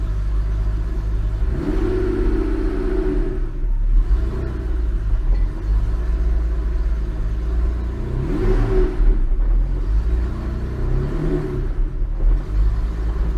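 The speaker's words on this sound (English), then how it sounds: "Let's try to go through the gears." Porsche 964 being driven through the gears, a deep steady engine rumble heard from inside the car with repeated swells of revving as each gear is taken.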